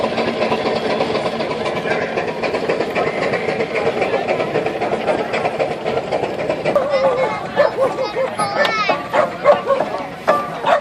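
Steam ploughing engine paying out its cable drum across a field, a steady mechanical rumble and clatter with rhythmic clicking that grows more irregular toward the end, with people talking over it.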